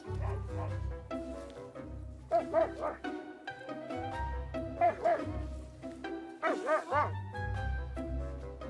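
Several sled dogs in Svalbard bark and yip in excited bursts, with whines between, close by over a steady low rumble.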